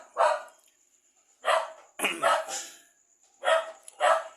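A dog barks about six times in short, sharp bursts, close by, with brief quiet gaps between them and a quick double bark in the middle.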